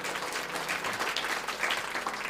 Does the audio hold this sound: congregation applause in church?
yes